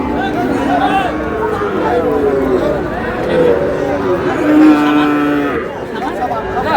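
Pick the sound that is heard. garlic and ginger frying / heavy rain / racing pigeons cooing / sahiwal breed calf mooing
sahiwal breed calf mooing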